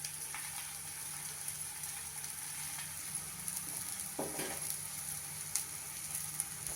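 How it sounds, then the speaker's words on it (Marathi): Manchurian paratha roasting crisp in oil on a pan, a steady soft sizzle running throughout with a few faint scrapes and clicks, close and quiet, no voices. "बाजूनी तेल सोडून आपल्याला पराठा छान भाजून घ्यायचा आहे खरपूस"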